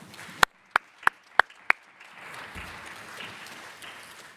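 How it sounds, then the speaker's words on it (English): Several sharp, single claps close to the microphone at a parliamentary assembly session, five evenly spaced, followed by a soft, distant wash of audience applause in the background. "A big applause."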